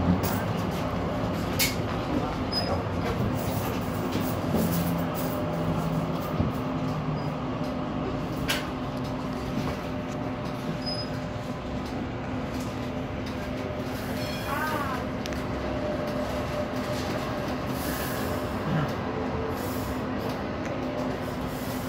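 Steady low rumble and hum of a Sheffield Supertram rolling along rails, heard from inside, with faint clicks and a brief rising whine midway, continuous throughout.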